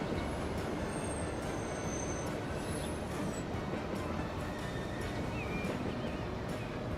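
A train in the Transport Fever 2 video game rumbles steadily through the Swiss Alps, with its wheels squealing in thin, intermittent high screeches over a dense, continuous roar.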